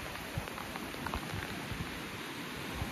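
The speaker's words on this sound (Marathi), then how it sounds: "जोरदार पाऊस चालू झालाय" Heavy rain pours steadily in Ghotage village, Kankavli, a dense hiss of drops drumming on surfaces with occasional louder splats.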